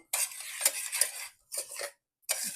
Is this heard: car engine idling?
no